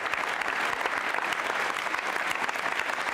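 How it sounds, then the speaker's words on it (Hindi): A school quiz show audience claps for a contestant in dense, steady applause from a crowd, loud and continuous throughout, with no speech over it. "अभिषेक जी के लिए तालियां जोरों से बजाइए"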